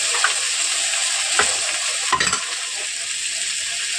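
Ginger paste, garlic and green chillies fry in a pan with a steady bright sizzle, broken by a few scraping strokes of a stirring spoon, close and continuous without any talk.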